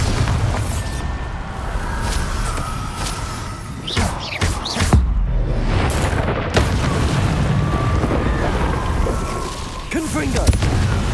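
Bombarda explosion spells going off in Hogwarts Legacy combat, a series of booming blasts and thuds mixed with whooshing spell effects and clatter, loud and close, with shouted incantations over the top.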